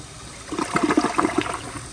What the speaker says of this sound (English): when I flush it here again, with it set to the water level that it is now, I mean, the flush is not very good